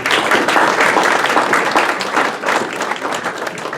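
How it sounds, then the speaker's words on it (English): Sustained audience applause at a lifetime achievement awards ceremony, dense steady clapping from a large crowd filling the whole stretch at even loudness. "you got to give yourself a round of applause"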